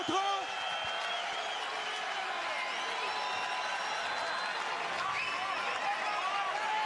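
A boxing arena crowd at Centre Vidéotron roars steadily after a knockdown, a broad, sustained wash of cheering and applause heard at a distance, with faint commentary talk over it.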